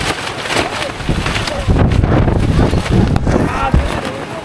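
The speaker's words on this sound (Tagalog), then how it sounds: "biglang lumakas ang hangin" Strong wind roars and buffets the microphone at a mountain campsite in People's Park, Tagaytay, where a tent is being packed up; the gusty rumble stays loud and continuous while a person talks over it.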